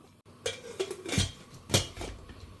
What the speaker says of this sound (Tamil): இப்போ இதை மூடி போட்டு வச்சிடலாம்.